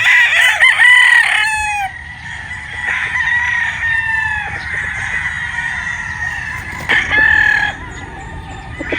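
Sweater Boston gamecock with a straight comb crowing loudly nearby, two full crows separated by quieter clucking and farmyard background.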